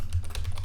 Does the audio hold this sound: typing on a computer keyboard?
yes